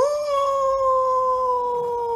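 A dog howls in one long, loud, steady tone that holds for about two seconds and fades slightly at the end.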